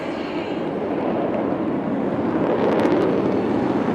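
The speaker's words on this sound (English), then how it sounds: "here he pulls up, making the aircraft stand on its tail" Indian Air Force fighter jet pulling up vertically to stand on its tail at a beachfront air show, a steady, loud roar of jet engine noise mixed with wind, swelling slightly toward the end.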